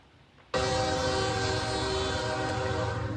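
A freight train rolling north through Mexico bursts in after a quiet moment, its horn sounding loud and sustained over the steady rumble of the cars.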